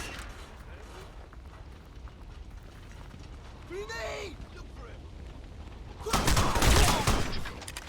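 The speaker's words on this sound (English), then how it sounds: "You gotta love that headshot sound." A headshot sound effect from the video game Crysis, running on very high settings, sounds like a sweeping, warbling tone followed by a sharp, loud burst of gunfire-like noise about two seconds later, over a steady background rumble.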